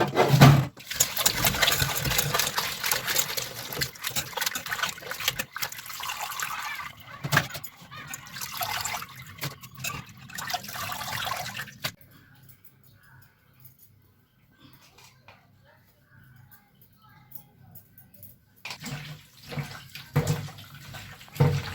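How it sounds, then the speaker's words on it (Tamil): Cut goat intestines being washed by hand in water, with sloshing, splashing and rinsing up close for about twelve seconds, a quiet pause, then renewed splashing near the end. "இப்போ நல்லா போட்டு 4-5 தடவை கழுவிக்கலாங்க"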